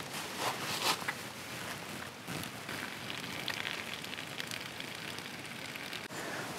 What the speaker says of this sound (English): And it started raining, as per usual.